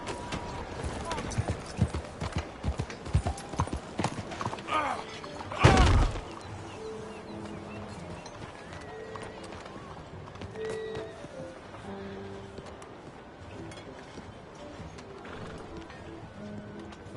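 Horse hooves clip-clop at a steady trot in Red Dead Redemption 2, with a heavy crash-like thud partway through and game dialogue and ambience running alongside.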